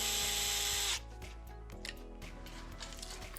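Power tool driving fasteners on an Arrma Fracture 6S RC car during a Fireteam conversion: one close, loud whirring burst that cuts off after about a second, followed by faint handling clicks.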